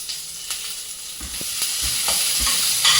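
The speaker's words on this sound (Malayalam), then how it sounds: "ചുമള്ളി വെളുത്തുള്ളി ഇട്ടിട്ട് വായിക്കാം" Steady, fairly loud frying sizzle with occasional stirring clatter as shallots and garlic cook in a hot pan; no voices.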